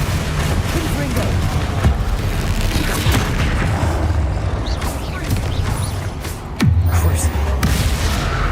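Repeated fiery spell blasts from the Confringo curse in a Harry Potter video game, booming bursts over a steady rumbling game soundscape, with a player speaking throughout.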